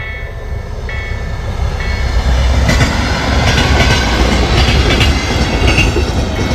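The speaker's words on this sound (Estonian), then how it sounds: "just sõitsin üle ja siis nägin, et rong tuligi" A train passes a rail crossing in rural Latvia, close and loud, with a steady roar of rolling wagons and rhythmic clickety-clack of wheels over rail joints, a faint ringing tone in the first seconds.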